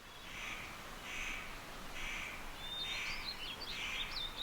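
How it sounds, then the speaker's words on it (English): Spotted nutcracker calling in a mountain stone pine forest: a run of harsh, rasping caws repeated about once a second, fairly clear against a steady background hiss, with a few thin higher notes near the end. "Here is this gourmet, the speckled nutcracker."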